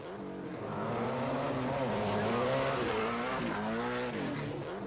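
A Peugeot 205 Turbo 16 rally car races across a small muddy course in Sarlat, its engine roaring close and loud, revving up and down through several gear changes.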